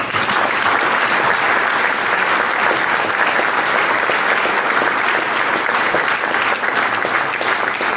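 A large audience at a Moroccan televised event breaks into sustained, dense applause that stays loud and even throughout, with no voices over it.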